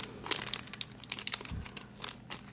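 A Star Wars Micro Force blind bag is cut and handled, giving close, busy crinkling and crackling of thin plastic in quick irregular bursts, with no talking.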